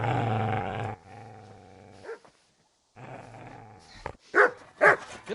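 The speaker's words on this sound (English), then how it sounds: "Get away, you mutt!" A dog growls at a man in a medieval village setting, a sustained low rumbling snarl at close range that breaks off, resumes, then turns into a few sharp, loud barks near the end.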